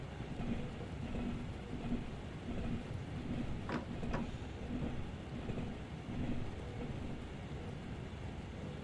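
Steady rain pours in a thunderstorm in the Train Sim World video game, a loud continuous hiss with a sharp thunder crack near the middle, heard alone without talk.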